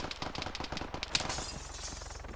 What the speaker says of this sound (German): Schüsse auf mich